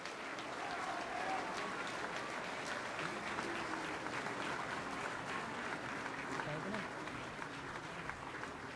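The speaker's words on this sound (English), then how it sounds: "May we have another round of applause for the signing of the 2012 Framework Agreement." Sustained applause from a large audience at the signing ceremony of the 2012 Bangsamoro Framework Agreement in Malacañan, a dense, steady wash of clapping and crowd noise continuing evenly throughout.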